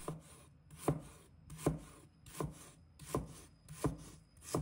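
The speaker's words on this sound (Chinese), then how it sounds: "葱白切成小段。" A knife chops scallion whites into short pieces on a wooden board, sounding as six evenly spaced, firm, close thuds with a faint scrape between strokes.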